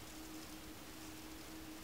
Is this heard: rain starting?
yes